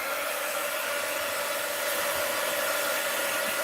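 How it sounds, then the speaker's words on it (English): A heat gun blowing on a mixed-media art journal page, a loud, steady close-up whoosh of hot air with a whining motor tone, continuous and unchanging throughout. "All right, heat gun alert."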